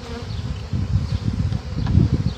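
Honeybees from a package buzz during installation into a hive, a dense, close swarm drone that swells and wavers continuously, with no speech.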